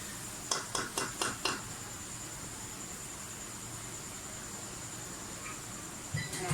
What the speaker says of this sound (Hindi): चिकन डाल के अच्छी तरह से इसको भूनें।